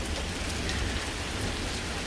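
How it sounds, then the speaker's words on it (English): Steady rain falls on a garden, a dense, even hiss of drops hitting leaves and ground that stays constant and fairly loud throughout, with no voices. "Raining pretty good too."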